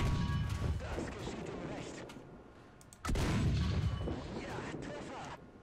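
A Jagdtiger tank cannon fires upgraded Panzergranate 43 rounds on the tank polygon map in War Thunder, two heavy booming shots a few seconds apart, each followed by a long rumbling decay, with a voice talking over them.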